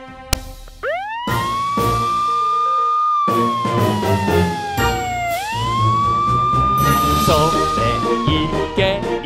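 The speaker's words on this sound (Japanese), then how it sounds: "モンスター消防車、助けに来てくれ。" A cartoon monster fire truck siren wails loudly with gliding up-and-down pitch sweeps, layered over bright children's song music with bell-like dings throughout.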